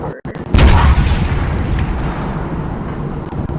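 A loud, close explosion from an airstrike in the destruction game Teardown booms after a brief silence, then rolls on as a sustained rumbling blast that slowly fades.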